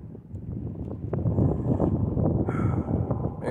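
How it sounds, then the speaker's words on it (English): Strong wind buffeting the microphone outdoors, a loud, continuous low roar with gusting swells throughout. "Man, that wind is ripping."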